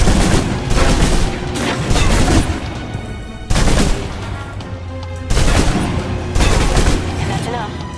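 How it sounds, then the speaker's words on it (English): Loud, close submachine gun fire in Alpha Protocol on PC, heard as several sustained rapid bursts separated by brief pauses, each burst a dense rattle over an echoing indoor firefight. "If you're trapped in close quarters with multiple opponents, the SMGs can help clear the room quickly. Not subtle or quiet"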